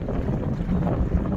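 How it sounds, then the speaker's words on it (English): Strong wind gusting over a river, heard from a shanty boat as a dense, continuous low roar and rumble buffeting the microphone, loud and steady with no talking. "It's too windy to anchor out"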